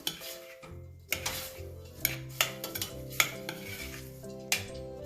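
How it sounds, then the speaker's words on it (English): A spoon stirs moong dal and cracked wheat in a metal pot, sharp repeated clinks and scrapes against the sides with a low hum underneath, close and distinct. "Stir it one more time."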